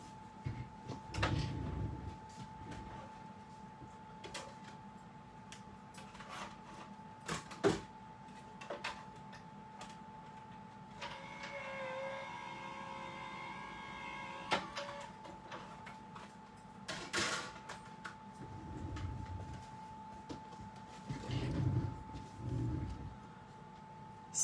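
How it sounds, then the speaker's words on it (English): A card-crafting machine cranks an ornament card through with a run of dry clicking and ticking, a steady whirring pass in the middle, and scattered knocks and handling noises. "I'm just going to set it in there and run it real quick through my"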